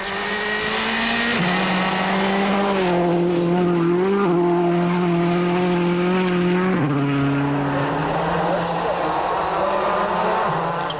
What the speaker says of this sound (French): Voici Gronholm à l'attaque